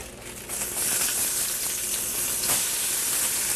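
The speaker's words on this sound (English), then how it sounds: "I just want it to saute a little bit and get soft." Steady loud sizzling of onions sauteing in browned butter in a hot pan, a continuous crackling hiss with occasional sharper pops, no voices.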